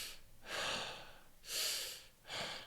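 A person demonstrates loud, noisy breathing, three heavy rasping breaths in a slow rhythm, close and harsh, with short quiet gaps between them.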